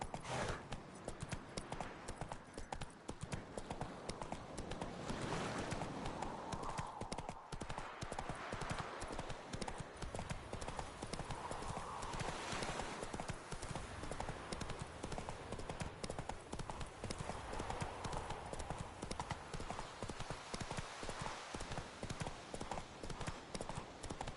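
Hooves of a horse in The Witcher 3: Wild Hunt clip-clop continuously in a fast, even rhythm under a constant wash of ambient game noise, with no talking.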